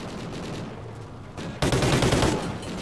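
Dense bursts of rapid gunfire rattle continuously, growing louder partway through, from the video game Call of Duty: Ghosts.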